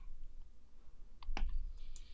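A computer mouse clicks during a basic Blender tutorial, a few sharp, quiet clicks close to the microphone over a low steady hum.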